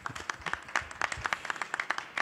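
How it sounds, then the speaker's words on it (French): Audience applause at a smart-territories business conference, a dense patter of many hands clapping steadily for about two seconds, moderately close and without talk. "bravo, on va vous applaudir"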